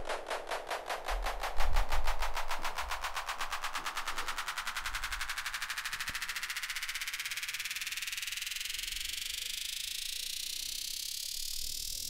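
A synth riser made in FL Studio sweeps steadily upward in pitch from C4 to C8, a loud, buzzy pulsing tone rising continuously for about twelve seconds with no talking.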